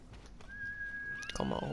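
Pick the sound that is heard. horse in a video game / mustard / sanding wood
horse in a video game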